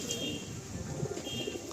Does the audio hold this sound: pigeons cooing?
yes